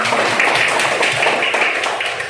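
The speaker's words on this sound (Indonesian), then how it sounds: "Tepuk tangan untuk kelompok 2." Loud, close applause for a student presentation group in a classroom, with many hands clapping in a dense, continuous patter that stays even from start to finish. No voices can be made out.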